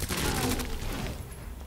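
A minigun with 50-round capacity fires in Resident Evil 2 Remake, a loud dense burst of rapid gunfire that fades slightly toward the end.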